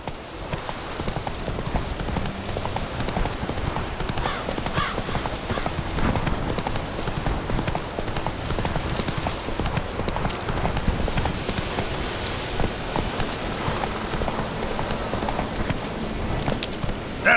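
Roach, Geralt's horse in The Witcher 3, gallops with steady, loud clip-clop hoofbeats throughout, over a rain-like wash of ambient noise with no talk.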